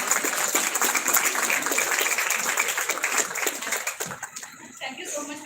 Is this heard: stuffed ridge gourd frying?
no